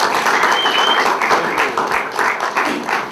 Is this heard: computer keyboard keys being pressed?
no